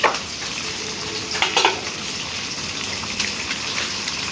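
Food fries in a pan with a steady, rain-like hiss of sizzling oil, and a few brief bursts of stirring stand out near the middle and end.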